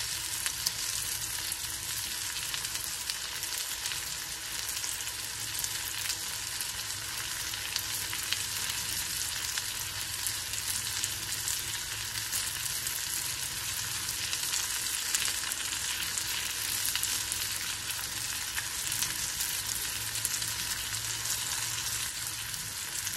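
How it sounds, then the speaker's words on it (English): Michigan morel mushrooms fry in a pan over medium heat, putting out a loud, even sizzle that holds steady the whole way with no voices. "And we'll just let these fry up a little bit."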